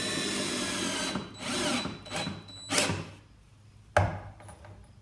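A power drill drives 2.5-inch exterior deck screws through picnic table seat boards into the legs, several short whirring bursts with pauses between them and a sharp knock near the end.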